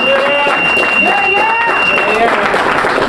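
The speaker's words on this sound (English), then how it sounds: "So I hope everybody could give them a round of applause." A crowd applauds the returning U20 football team at a homecoming welcome, with steady clapping and cheering from nearby mixed with murmuring voices and some high whistle-like tones.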